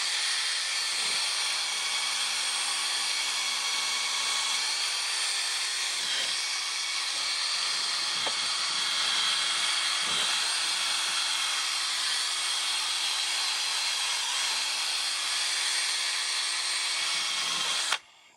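A power sander grinds steadily on a car headlight lens, a loud even whine running almost unbroken before cutting off abruptly at the end.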